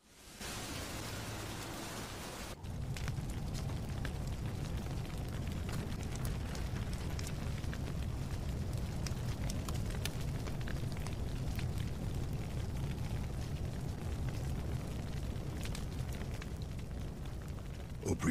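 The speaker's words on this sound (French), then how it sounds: "les feux de forêt se multiplient." A forest fire burning in the dry season, a steady loud roar of dense broadband crackling and rushing noise that holds for most of the span after a brief softer opening, with no voices.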